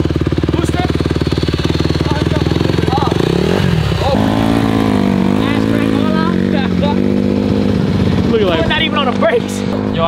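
A dirt bike's motorcycle engine putters and revs up near the listener during a wheelie attempt, with a rising then falling pitch, while people talk over it.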